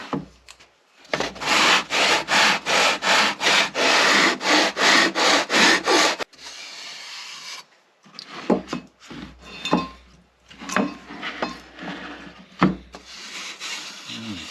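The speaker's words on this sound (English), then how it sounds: "we've got a little ways to go, so we'll keep sanding" Steady back-and-forth sanding of a wooden concert ukulele top in quick, even rhythmic strokes, loud and close, then a pause and scattered scraping and handling sounds.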